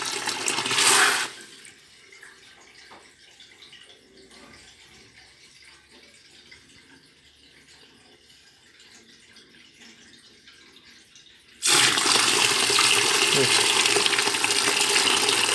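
Dirty black water flushing out of a combi boiler heat exchanger during radiator cleaning: a loud gush of rushing water at the start, a long quieter stretch with low trickling, then a strong steady torrent resuming near the end.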